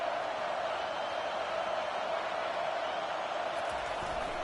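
Steady stadium crowd roar at an American football game as the opposing offense is pinned deep in its own end, a broad continuous wash of cheering and noise throughout with no clear peaks.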